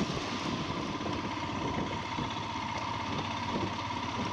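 A Royal Enfield Himalayan motorcycle engine drones steadily while riding on a mountain road, a continuous mid-pitched hum with a faint rattling noise and rushing wind underneath.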